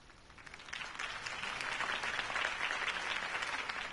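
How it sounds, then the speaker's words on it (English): A video game crowd's applause swells from moderate to full, sustained clapping that holds steady without voices above it. "could have heard that applause"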